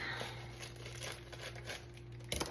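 Faint crinkling and rustling of a cake mix package being opened, soft and close, ending in a brief louder tear.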